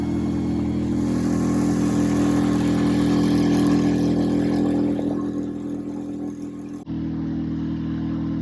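Outboard and inboard engines on a 54-year-old sailboat run flat out at a bridge lift on Chesapeake Bay, a steady loud mechanical drone with a low throbbing hum that dips briefly near the end, with no talking.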